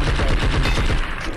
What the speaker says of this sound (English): why am I getting shot?